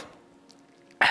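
A single sharp cough bursts out at the end, preceded by quiet low room hum.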